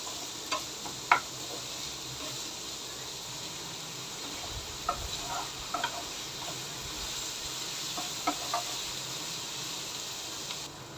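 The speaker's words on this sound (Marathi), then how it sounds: "एकदम चांगला परतून घ्यायचा आपल्याला थोडा मिडियम लालसर करायचं आपल्याला" Onions sizzle steadily in a hot pan, sautéing to a medium reddish brown for a dry drumstick curry, a constant frying hiss broken now and then by soft clicks and taps of stirring.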